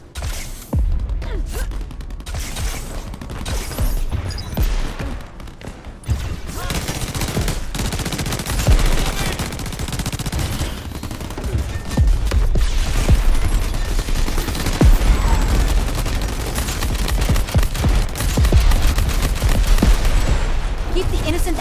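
Dense, continuous gunfire and explosions from the video game Crackdown 3 during an assault on Ashwood Marina, loud and sustained with a busy layered backdrop and occasional voice-like gasps.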